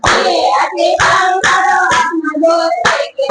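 Steady two-handed claps, about two per second, keep time under a sung devotional Krishna hymn. The claps are crisp and near, with singing voices continuing over them the whole time.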